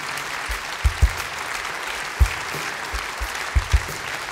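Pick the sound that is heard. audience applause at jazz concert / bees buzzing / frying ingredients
audience applause at jazz concert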